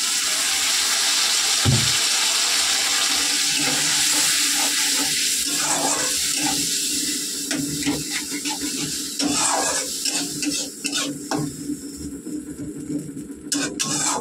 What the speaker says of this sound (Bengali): এর মধ্যে একটু জল অ্যাড করা হবে।